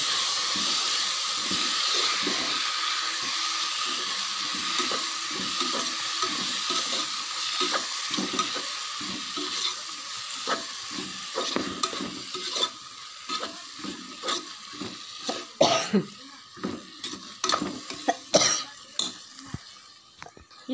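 Tomatoes frying in a pan with chilli powder for tomato chutney, a steady sizzle with repeated stirring scrapes that grow sparser and more distinct toward the end.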